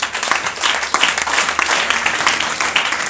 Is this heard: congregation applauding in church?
yes